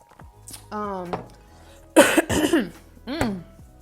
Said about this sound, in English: this girl coughing all up on the phone